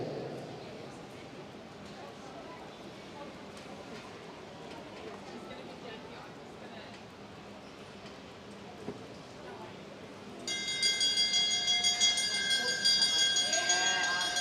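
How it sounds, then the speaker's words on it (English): Last-lap bell rung for a junior rider at an international track cycling race, a bright sustained metallic ringing that starts partway through over steady crowd noise and announcer talk. "All right, he gets the bell"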